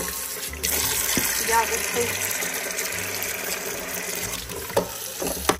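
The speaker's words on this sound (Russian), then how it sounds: "Набирается вода вот в этот салатник золотой" Cold tap water steadily gushing into a golden salad bowl at a sink for washing berries, a continuous close stream with a person talking over it.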